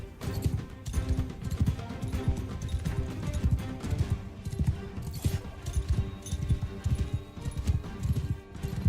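Steady, rhythmic clopping of horse hooves at a trotting pace in the video game Mount & Blade II: Bannerlord, fairly close, with faint scuffing in the background.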